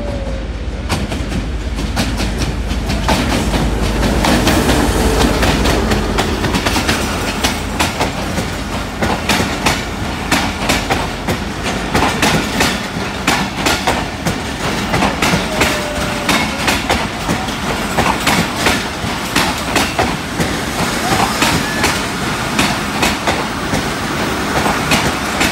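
A passenger train rolls through a railway station in Mandi Bahauddin, its steady wheel clatter and rumble loud and continuous throughout, with rhythmic clickety-clack over the rail joints.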